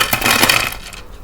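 Crispy fried onion pakoda tumbles onto a plate with a quick cluster of sharp, brittle clinks and crackles, close and bright, fading out within a second.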